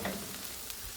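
Steady close sizzling and crackling of roasted broccoli on a hot pan fresh from the oven, a continuous bright hiss with small pops, no voices.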